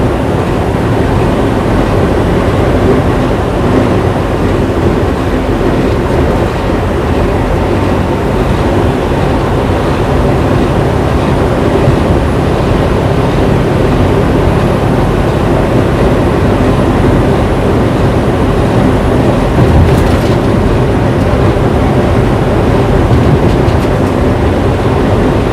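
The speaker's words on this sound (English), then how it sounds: "Over an intermodal train right here." Intermodal freight train rolling along rails near a viaduct, heard as a loud, continuous rumbling roar with a faint clatter, steady throughout with no talk, likely from inside a moving truck on the road in Colorado.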